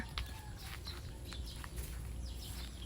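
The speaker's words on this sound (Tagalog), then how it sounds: "Kasi dito marinig mo ang mga huni ng ibon." Faint scattered bird chirps over a steady outdoor rumble near rice paddies in the Philippine countryside, distant and intermittent, with no one speaking.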